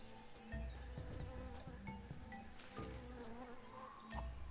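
Insect-like buzzing from a bee in the video game Tales of Monkey Island, a steady drone running through the whole stretch amid other layered ambient game sounds, with no talking.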